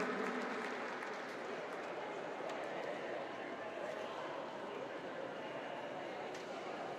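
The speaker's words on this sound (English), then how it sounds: "once again, a big applause" Steady applause from a large crowd at a climbing World Cup final in Edinburgh, continuous and fairly loud throughout with no pauses.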